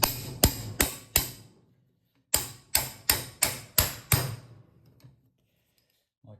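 A hammer taps a magneto part into place on a BSA Villiers 119cc Sloper motorcycle: two crisp metallic runs of four and six evenly spaced blows, close and clear with a brief pause between.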